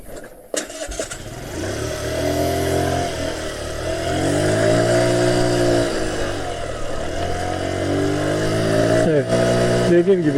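A Revival 50cc motorcycle engine labours up a steep slope, a loud, sustained droning buzz whose pitch slowly rises and dips as it strains, with a sharp mechanical clatter near the start and a voice over it.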